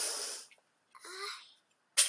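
A person sniffs and snorts in short bursts indoors, a hissing nasal inhale at the start, another longer snuffle in the middle and a sharp final snort, fairly quiet with gaps of silence.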